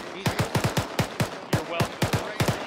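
Machine-gun fire from a gun run in the game Arma 3 comes as rapid, uneven bursts of sharp, booming shots with a falling echo tail, moderately distant and steady across the whole stretch.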